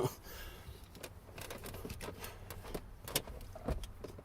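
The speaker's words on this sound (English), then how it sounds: "There we go, handbrake down." A car handbrake is released during brake caliper work, with a few soft mechanical clicks and a ratcheting clunk, close by, against a quiet background.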